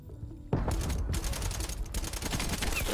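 Rapid AMP63 pistol fire in a Call of Duty match, a steady stream of close, loud shots that begins abruptly and carries on to the end with mechanical clatter among the reports.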